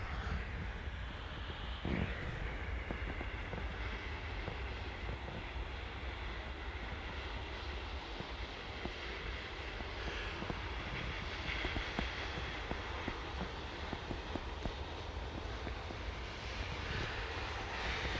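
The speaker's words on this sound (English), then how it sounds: "So it's an Airbus A320, 8 years old. Actually a Swiss registered aircraft." Swiss-registered eight-year-old Airbus A320 jet airliner at Manchester Airport, a steady broad engine roar that carries through the whole stretch at an even, moderate level with no voices.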